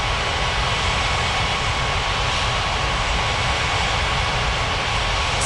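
Loud, steady roar of an airliner's jet engines as it comes in to land in an air traffic control game, a dense continuous wash of engine noise with no gaps.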